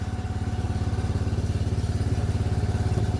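A motorcycle engine runs nearby at a steady, rapid pulsing idle throughout, alone without talk, in a chili field where hoses are used for spraying.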